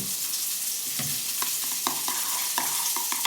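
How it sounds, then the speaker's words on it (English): Dijon mustard and cream being stirred together in a small bowl, a run of soft scraping and clicking spoon strokes over a hissy background. "We'll mix that together."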